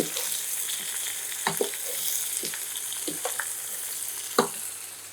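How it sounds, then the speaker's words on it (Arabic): Sliced onions and beef tripe sizzle steadily in a hot pan, with periodic scraping stirs cutting through the constant frying hiss, close up and without talk. "وهنفضل نقلب في العكاوي والبصل لغايه لما البصل بتاعنا يدوب خالص"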